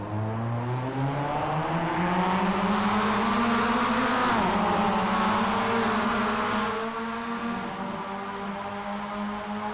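Mazda MX-5 race cars roar off the line together at a Sebring race start, engines climbing through rising gears in a loud, dense, sustained pack howl with shifting pitch.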